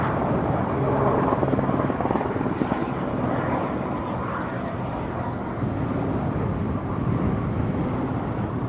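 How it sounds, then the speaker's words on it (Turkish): A firefighting helicopter flies nearby, its rotor and engine producing a loud, steady throbbing roar throughout. "Sabahtan beri helikopter bir tane, arkasından da 3 tane uçak olmak üzere soğutma çalışmaları bütün hızıyla devam ediyor."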